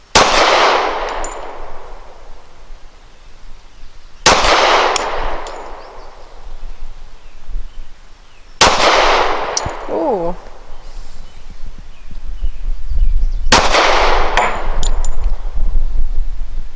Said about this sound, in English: 5 shots from 7 yards. We'll be using the Elite Performance Ammunition 230 grain at the right circle